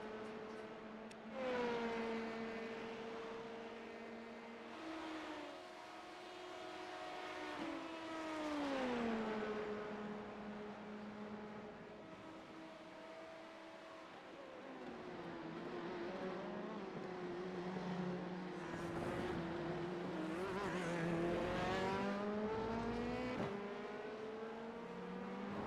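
An LMP2 race car engine in the iRacing video game, droning steadily at high revs with rising and falling pitch as it shifts gears and accelerates, heard alone and fairly quiet.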